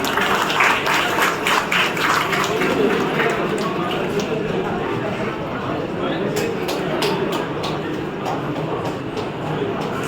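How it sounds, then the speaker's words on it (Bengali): Applause from the crowd at a Teachers' Day gathering in Mothabari, Malda: a dense, continuous patter of many hands clapping, mixed with crowd chatter and a voice over a loudspeaker. "সকলকে করতালি দিয়ে অভিনন্দন জানানোর জন্য অনুরোধ করছি"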